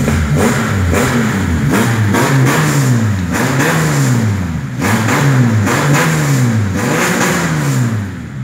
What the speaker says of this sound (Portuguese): muito legal, o giro sobe muito forte